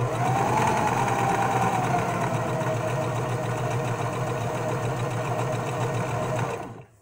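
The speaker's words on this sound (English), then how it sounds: "Overlocker and serger is the same thing." An overlocker (serger) sewing machine runs continuously at speed with a steady high whirring buzz, holding constant for several seconds before stopping abruptly at the end.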